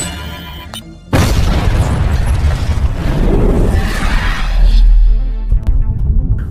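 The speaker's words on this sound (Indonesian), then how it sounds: "Bom itu meledak" A car bomb detonates in a film scene with a sudden loud boom, followed by several seconds of roaring blast and rumbling debris before it fades, with a quieter ambient bed before and after.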